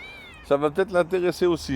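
A pet cat meows repeatedly in short, close, loud calls, about six in quick succession, after a brief quiet start, with a person speaking alongside.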